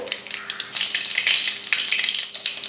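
Crackling, popping sizzle of mustard seeds tempering in hot oil in a kadai, rapid irregular bursts up close, with no voices.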